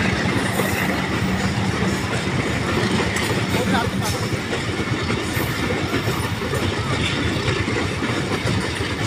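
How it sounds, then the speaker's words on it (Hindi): Train rolling over a canal bridge beside a closed railway crossing, a steady loud rumble of wagons with continuous clickety-clack of wheels throughout, close by. "आगे रेलवे का फाटक बंद है क्योंकि इधर से ट्रेन आ रही है।"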